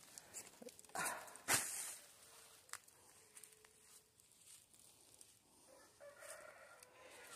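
A chicken in a backyard vegetable garden clucks in a few scattered sharp calls, one louder squawk early on, with quieter fowl and a dog heard among faint outdoor background.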